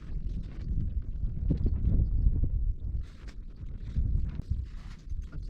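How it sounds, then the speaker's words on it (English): Strong wind buffets the microphone in steady low rumbling gusts, loud and continuous throughout with no voices. "It is windy."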